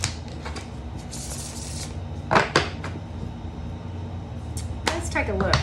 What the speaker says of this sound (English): One more shuffle it is.